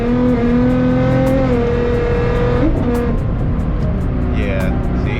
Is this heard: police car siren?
no